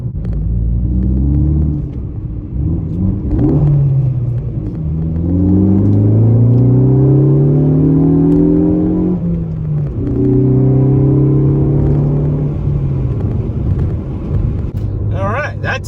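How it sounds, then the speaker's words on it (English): Ford Focus ST hot hatch fitted with a Borla S-Type exhaust, a deep rumbling drone that rises and falls through several revving pulls from inside the car, with someone talking excitedly over it. "Sounds freaking awesome. Holy moly. It's a sports car now. Hot hatch sports car. Ford Focus ST."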